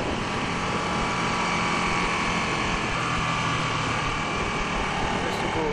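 A 2016 Ducati 1299 Panigale S motorcycle engine running steadily under way, a continuous buzzing drone with no clear break for a gear change.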